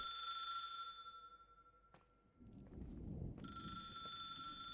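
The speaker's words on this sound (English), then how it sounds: "It's a phone ringing." A phone in the video game The Suicide of Rachel Foster rings with a bright, steady electronic bell tone that drops out briefly between thuddy footsteps, then rings again, faint and indoors.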